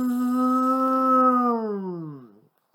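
A human voice imitates a lawnmower's steady zooming sound, holding one long, even buzzing hum before the pitch slides down and fades out.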